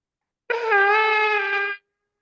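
A single steady tekiah blast from a ram's horn shofar, held straight for over a second and then cut off cleanly, alone in silence.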